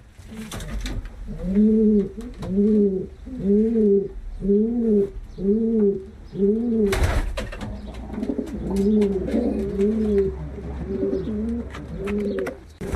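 A pigeon cock coos to call a hen in a steady, repeated rhythm of rolling calls close by, pausing briefly after a sharp thump before resuming.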